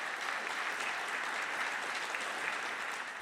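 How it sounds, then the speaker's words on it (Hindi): Loud, steady applause from a large audience at the opening ceremony of the DPIFF film festival, continuous dense clapping filling the whole stretch with no voices. "एक बार जोरदार तालियां हो जाएं।"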